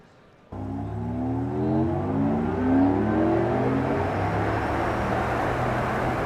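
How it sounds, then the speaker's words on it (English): An electric car's artificial driving sound starts abruptly after a brief quiet moment, a smooth synthetic hum with layered tones that sweep upward like acceleration, then hold steady and fairly loud. "some of the other electric car sounds that are out there on the market right now"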